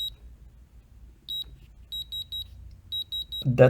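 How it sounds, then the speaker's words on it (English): High electronic alarm beeps from a tiny 1970s Sharp calculator in short clustered bursts, pairs and fours in a repeating pattern, over a low hum, ending with a brief thump. "it's going to keep ringing as long as you are still at the hour of the alarm"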